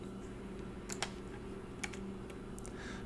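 Light, sparse keystrokes on a computer keyboard tap out a few quick clicks over a steady low hum, with scattered single presses and no talking.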